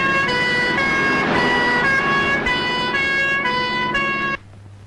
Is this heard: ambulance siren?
yes